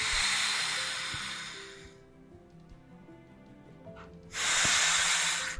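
A deep inhalation during a breathing exercise, heard as two long, loud airy breaths close to the microphone, each lasting about two seconds, separated by a quiet pause.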